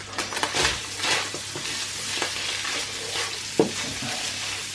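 Bacon frying in a pan, sizzling softly with intermittent scraping and stirring clicks and one sharper utensil knock near the end.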